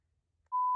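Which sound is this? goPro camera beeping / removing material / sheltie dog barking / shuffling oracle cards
goPro camera beeping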